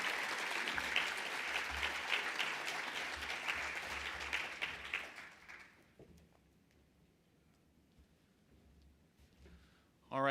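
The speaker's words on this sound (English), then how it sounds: "let's give another round of applause to all of our speakers tonight" Audience applause at a worker-power and civic-engagement plenary in Ohio, loud and sustained clapping from a large crowd for about five seconds, then fading out to quiet room tone.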